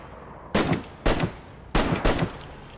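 Gunfire in the DayZ shooting game: four sharp, loud shots in quick succession, each with a short echoing tail, over a steady background hiss and with no talking.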